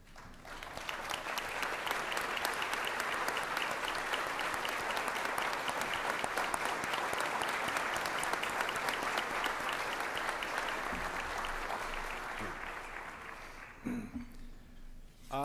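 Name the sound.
luncheon audience applause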